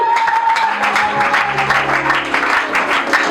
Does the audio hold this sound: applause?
yes